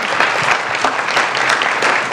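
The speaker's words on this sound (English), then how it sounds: "Just one more round of applause for her." A lecture audience gives a speaker a round of applause, a full, continuous wash of many hands clapping at close range with no break.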